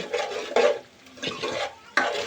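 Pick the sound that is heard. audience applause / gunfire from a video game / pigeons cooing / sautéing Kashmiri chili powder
sautéing Kashmiri chili powder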